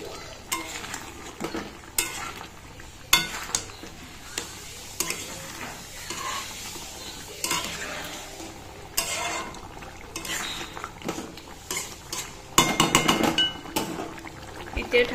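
Chicken stirred with chicken masala in a pot, close sizzling under repeated sharp clanks and scrapes of a spoon against the metal, with a louder burst of frying toward the end.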